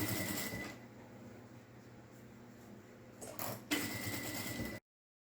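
A sewing machine stitching the fabric lining onto the main panel of a foldable pencil case, a steady close mechanical whir running continuously, briefly interrupted near the end before resuming.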